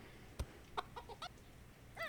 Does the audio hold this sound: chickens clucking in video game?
yes